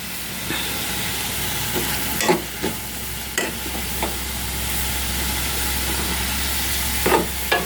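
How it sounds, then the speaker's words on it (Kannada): Tomatoes with turmeric frying in a pan, a steady low sizzle with a few scattered stirring scrapes and clacks of a utensil, close and alone. "ಈಗ ಟೊಮೊಟೊ ಬಾಡುವವರೆಗೂ ಫ್ರೈ ಮಾಡಿ."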